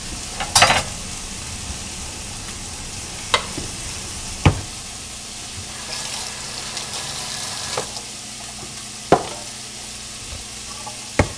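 Tagine ingredients with parsley get stirred around a hot sizzling pan, a steady frying hiss broken by several sharp scrapes and knocks of the utensil against the pan, with no talk.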